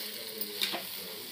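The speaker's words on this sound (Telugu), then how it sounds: "బాగా కిందకి మీదకి బాగా కలుపుకోవాలి" Beetroot curry cooking in a pan gets a quick stir, one or two short scrapes over a low sizzle, close and faint, with no voices.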